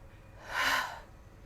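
A single audible breath is pushed out during a yoga flow, a soft airy whoosh that swells and fades over about half a second, close and quiet, with no voice over it.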